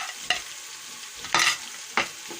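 Ginger garlic paste frying in a pan with browned onions, with a steady sizzle under three sharp bursts of stirring and scraping and no voices.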